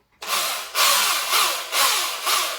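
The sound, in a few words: Fisch 10-inch drill drilling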